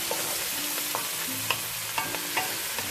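Onions frying and caramelizing in a pan for home-style chicken, a steady close sizzle with soft scraping stir strokes at a loose rhythm, no voices.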